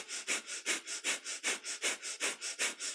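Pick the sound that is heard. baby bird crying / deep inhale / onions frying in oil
deep inhale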